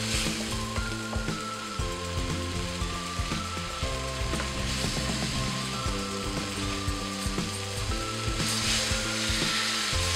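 Masala roasting in a pan while being stirred, giving a continuous scraping, rattling spatula texture over a low frying sizzle, close and fairly busy throughout, with no voices.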